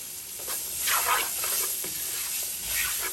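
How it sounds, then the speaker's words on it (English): Chopped green pepper and onion go into a hot frying pan, producing a close hissing sizzle with a few swells and stirring scrapes over about three seconds. "I cut up a half a green pepper and a half an onion. And so I'm going to put all of that in my pan."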